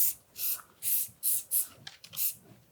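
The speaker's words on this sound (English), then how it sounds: "little leaf shine, Little spray." Leaf shine spray on flowers in a floral hat box arrangement: about six short, close hissing bursts from an aerosol can in an uneven rhythm, quiet and alone.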